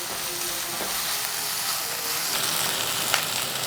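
Ginger garlic paste roasts in a pan with a continuous close sizzle, broken by a few light scrapes and clicks of stirring.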